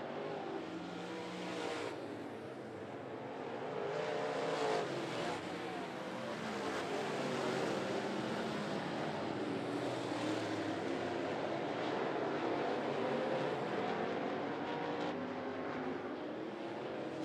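Late model race cars roar around 411 Speedway in a feature event, a steady broad engine drone sustained throughout with a slight swell midway, distant crowd and track ambience mixed in.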